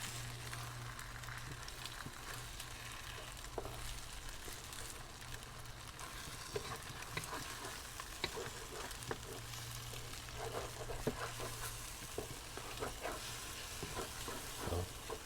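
Egg fries in a pan for pad thai with a continuous crackling sizzle, while the spatula scrapes and clicks in uneven rhythm. It is up close with no talking.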